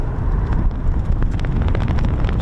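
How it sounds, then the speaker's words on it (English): Gusty wind buffets the microphone at the RAF Lakenheath airfield, a loud continuous low rumble with no voices. "It's quite windy, isn't it, Ted?"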